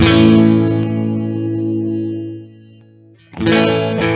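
Electric guitar played through a Yamaha THR desktop amp with 4x10 cabinet modeling, a sustained effected chord ringing loud with chorus and reverb, fading out before a fresh strum cuts in near the end.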